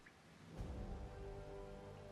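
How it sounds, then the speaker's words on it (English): Steady rain in the video game Valkyria Revolution patters and hisses evenly, swelling slightly partway through, a soft continuous wash of drops with no voices. "It's raining."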